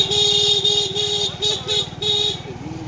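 A vehicle horn honks again and again in street traffic on a Rath Yatra festival day, sounding as a string of short, loud, close tooting blasts over the hum of passing vehicles.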